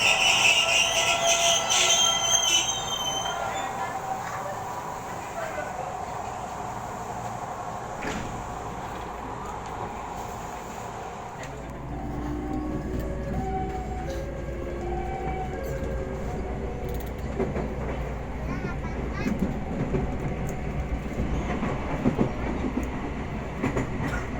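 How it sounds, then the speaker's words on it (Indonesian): A Jakarta commuter line train pulls into Duri transit station, with steady rumbling rail noise, clickety-clack of wheels and shifting tonal squeals as it slows, continuous and fairly close throughout. "Sesampainya kereta tiba di stasiun akhir stasiun transit Duri"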